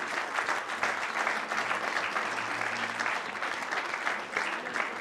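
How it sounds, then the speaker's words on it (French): An audience applauds a book-category prize winner at the 2011 Mémoires de la Mer festival awards, steady dense clapping filling the hall for about five seconds without a break. "Je propose qu'on l'applaudisse et qu'il nous rejoigne."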